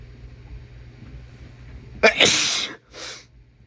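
A single loud, close sneeze bursts out suddenly, followed by a shorter breathy gasp, over quiet background hum.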